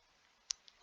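A sharp single computer mouse click, followed by two fainter clicks in quick succession, each crisp and close in an otherwise quiet room.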